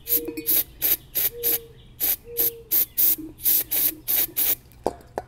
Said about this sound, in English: I'm going to get some cleaner on the needle valve.